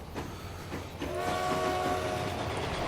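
A train in the video game Transport Fever rumbles along with a low rolling clatter, and a sustained horn-like tone rises over it partway through, steady and close with no talk.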